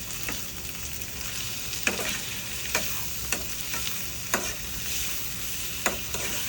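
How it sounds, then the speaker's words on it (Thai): Pad thai with shrimp stir-fried in a pan, a steady close sizzle of frying broken by sharp scrapes and clacks of the spatula roughly every second, with no talking. "ใส่ไปเลยแล้วผัดเลย"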